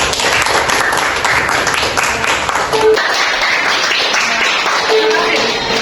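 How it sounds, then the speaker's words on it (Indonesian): A crowd bursts into steady, dense clapping that fills the whole stretch, with a few voices faintly mixed in. "Tepuk tangan untuk kelompok satu."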